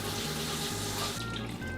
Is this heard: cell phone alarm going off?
no